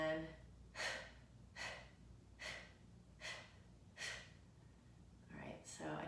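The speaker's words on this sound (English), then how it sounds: "I inhaled, and then when I exhaled, I exhaled very forcefully, pressing my abdominals in" Kapalabhati yoga breathing: a series of about six sharp, forceful nasal exhales driven by the abdominals, evenly spaced roughly every 0.8 seconds, close and clear with quiet between bursts.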